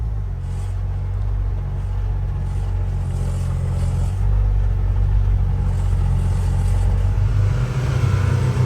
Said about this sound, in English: We're going to put it in drive, and we're going to go to comfort mode and see what we get at just cruising about 20 mile per hour.